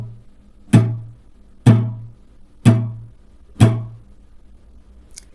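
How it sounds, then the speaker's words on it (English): Four evenly spaced downstrokes on an acoustic guitar, each a bright, close strum that rings and fades before the next, played alone with no voice. "Alright, so first strumming pattern looks and sounds something like this."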